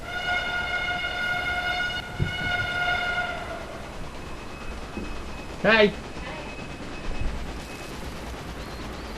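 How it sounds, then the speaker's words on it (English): A local train runs in the Railway Empire game. A sustained multi-tone horn sounds, then fades amid steady rolling rail rumble, with a brief whistle-like squeal and a short shouted voice over the continuous track noise. "That's the local train to Thurso"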